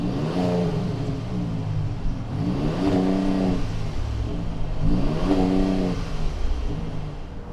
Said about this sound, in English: Let's go ahead and fire up this EcoBoost.